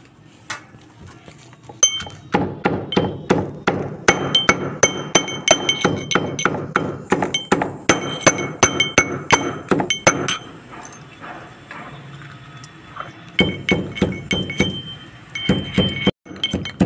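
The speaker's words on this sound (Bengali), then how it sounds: "এই লঙ্কা রসুনটা কুচা হয়ে গেছে।" Whole chilies and garlic chopped with a knife on a board in a home kitchen, a steady run of sharp, close knocks in fast bursts with brief pauses.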